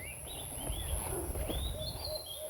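Several birds chirp and whistle outdoors under shady trees near a chili seedling garden, short rising calls repeating against a steady background hiss and faint low rumble.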